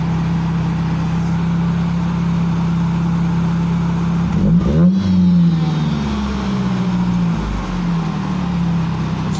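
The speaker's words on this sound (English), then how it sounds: "They have it tuned to rev high because of the supercharger." A supercharged car engine, tuned to idle and rev high, holds a steady droning idle, then blips once in a short rising rev before settling back to a smooth hum; close and loud, with no talking.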